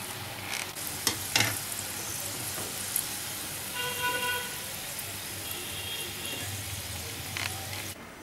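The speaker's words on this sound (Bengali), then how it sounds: "এটাকে আমরা আস্তে আস্তে মিডিয়াম আছে ভেজে উঠাবো" Flower samosas frying slowly in oil over medium heat, giving a steady, dense sizzle and bubbling that runs throughout, with a few faint clicks and a soft tonal hum in the middle, close and fairly quiet.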